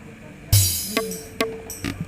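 Reworked kendang drum voice on a Korg Pa500 keyboard after adjusting its settings, a few loud separate hits, a deep thud followed by sharper ringing strokes, fairly close and without talk.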